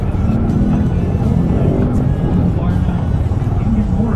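A 2024 Yamaha PG-1 motorcycle engine pulls steadily in gear on an off-road ride, with a continuous low throbbing drone and loud wind rumble throughout, while a rider talks over it.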